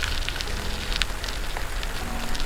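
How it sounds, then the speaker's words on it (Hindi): Steady rain patters across a surface, with scattered brighter drops standing out against a constant wash of noise, no voices present. "बारिश हो रही थी।"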